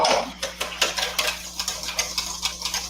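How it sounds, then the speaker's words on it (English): Rapid whisking of eggs for a healthy French toast, with a fast run of light metallic clicks and taps against a bowl, close and fairly busy, with no speech over it. "Look at that whisking action, ladies and gentlemen"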